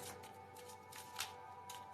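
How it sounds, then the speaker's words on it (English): A deck of gratitude cards is being shuffled, giving faint, soft riffling and sliding bursts with a quieter steady background hum. "Not really good with my shuffling yet."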